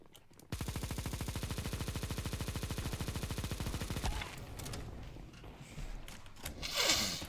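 Negev machine gun firing in Counter-Strike 2, a fast unbroken burst of rapid rattling shots for about three and a half seconds, then fading into softer game sounds and a rising whoosh.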